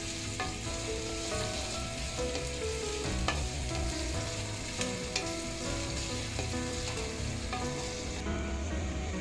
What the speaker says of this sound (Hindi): हम इसे गोल्डन कलर आने तक इसे फ्राई करेंगे।